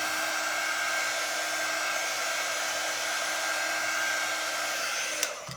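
A hair dryer blows steadily and close by, drying a freshly made craft piece, with an even, unbroken whoosh and a faint high whine that cuts off abruptly just before the end.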